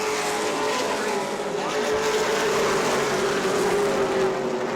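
Race cars roar past on the oval at New Smyrna during the World Series, a loud, steady engine drone with a sustained tonal whine that carries on without a break, with an announcer's voice faintly mixed in.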